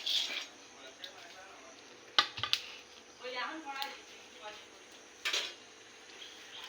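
Flattened rice (chira) being fried and stirred in oil in a pan gives soft intermittent scraping and light sizzle, with a few sharper utensil knocks while a person talks over it.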